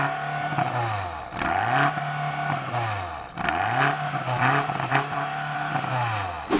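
A stationary BMW XM revs repeatedly against its soft limiter, the engine note swooping up and bouncing off the cap in a rhythmic series of rises and falls, close and loud.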